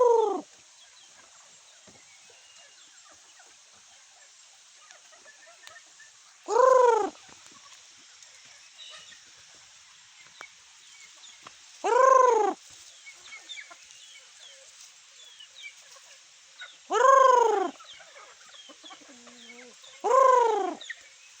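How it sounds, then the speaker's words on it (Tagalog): A red junglefowl crows from within the forest, giving five loud crowing calls spaced several seconds apart, with quiet woodland background and faint chirps between them. "Labuyo yan."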